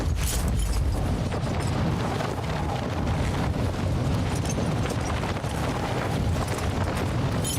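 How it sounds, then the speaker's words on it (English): A detonated explosive in Call of Duty: Warzone 2.0 gives a loud, roaring blast that rumbles on as a continuous wash of noise, with no speech heard over it. "Accidentally detonated it."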